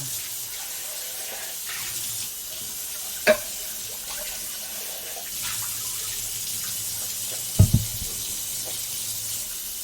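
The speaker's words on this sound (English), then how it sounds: "Give everything a rinse again." Kitchen tap running steadily as food is rinsed for a breakfast hash, a continuous hiss of water with a couple of brief knocks, moderately close and with no talk.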